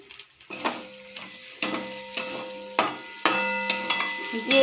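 A pan of niramish kosha aloo dum, potato curry with coriander leaves, is stirred with a metal spoon that knocks the pan in regular strokes about every second, over a continuous close sizzle.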